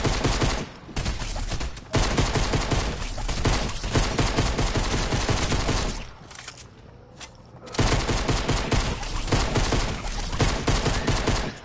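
Sustained, dense pistol gunfire in a video game, rapid overlapping shots nearly continuous for most of the stretch, with a brief lull in the middle before the firing resumes, loud and close.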